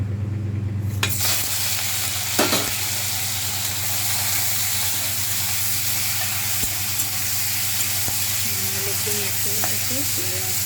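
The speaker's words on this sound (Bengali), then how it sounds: "চিংড়ি মাছটা ভেজে নেব, হালকা করে ভেজে নেব।" Prawns frying lightly in hot mustard oil in a pan, giving a steady, close sizzle and hiss with a couple of brief stirring clatters, no talking.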